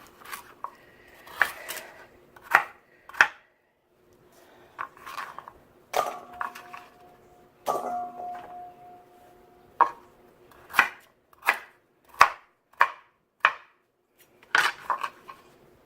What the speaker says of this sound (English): So a couple couple of nice carrots. Oh, you know, like 1-inch chunks